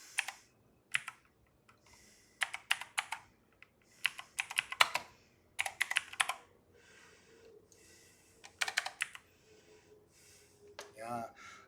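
Bursts of typing on a computer keyboard, close and clear, come in quick clusters with pauses between them while someone searches for a trading card online; a faint breathy sound is heard near the end.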